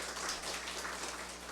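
A seated audience at a Korean debate forum on electric vehicle battery aftercare applauds, a soft, fairly distant patter of clapping that runs evenly through the moment.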